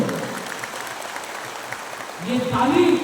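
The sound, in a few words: crowd applause at a political rally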